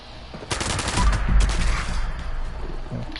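Rapid gunfire from a quad weapon in the Fallout 76 video game, a dense burst of shots over a couple of seconds, loud and close with game ambience around it.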